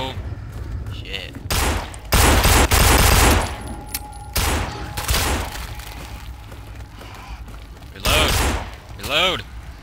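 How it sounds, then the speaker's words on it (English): AK machine gun fire in the zombie video game No More Room in Hell, heard as short loud bursts of rapid shots spread across the clip, mixed with game noise and players talking. "I got 23 bullets in my machine gun."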